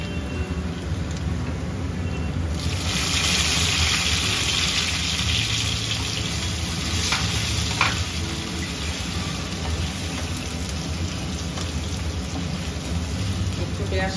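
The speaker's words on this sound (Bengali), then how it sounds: "একটু পেঁয়াজটা ভাজা ভাজা হবে।" Onion paste frying in a pan with garlic for a spiced kosha meat curry, a steady dense sizzling hiss that runs unbroken from start to finish and swells slightly after the opening seconds.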